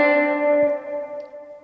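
A single note on an electric guitar, picked close to the bridge through an effects unit, rings out bright and sustained and then slowly fades, heard alone with nothing else playing.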